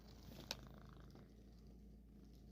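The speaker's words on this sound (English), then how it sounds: "If you hear that purring sound," A cat purrs very faintly and close by, a low steady rumble with a single brief click near the start.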